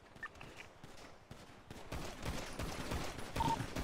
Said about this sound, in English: me and Drew were mag dumping him